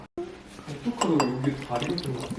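A guava drink is poured into a glass with ice. It makes a close gurgling pour with light glassy clinks, under a voice talking through most of it.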